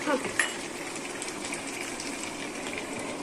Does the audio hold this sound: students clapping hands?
no